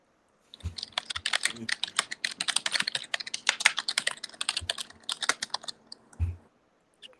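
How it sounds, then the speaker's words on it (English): Fast, aggressive typing on a computer keyboard, a dense flurry of sharp close-up clicks and heavy key thumps running nearly seven seconds before stopping abruptly. "Aggressively typing."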